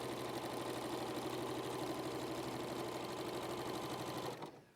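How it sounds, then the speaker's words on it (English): A sewing machine runs steadily while stitching quilt rows together with sashing strips between them, a loud, close, fast mechanical hum and rapid needle chatter that continues unbroken before stopping abruptly at the end, with no talking. "you're going to sew the rows together with a sashing piece in between."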